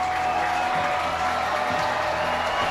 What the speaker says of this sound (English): Crowd on their feet, roaring here at America's Classic Ballpark